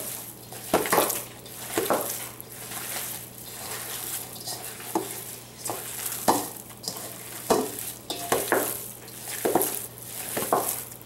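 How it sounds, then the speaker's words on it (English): Hands squish and knead a meatball mixture of egg, bread and cheese in a bowl, producing irregular wet squelches and soft slaps close up, with a faint steady hum underneath. "the best way to get this incorporated is just to use your hands"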